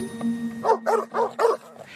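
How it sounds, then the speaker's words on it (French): Four quick dog barks in a row, loud and close, ringing out one after another in a royal hunting party's pack of hounds, with a steady low hum underneath. "les chiens se mirent à aboyer"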